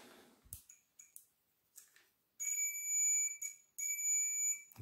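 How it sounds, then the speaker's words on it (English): An electrical circuit tester checks continuity on a Stihl MS150 chainsaw wire, giving a few light clicks followed by two sustained, piercing high beeps, close and loud, separated by a brief break. "I'm going to test continuity from there to there to see if there's a break in the wire"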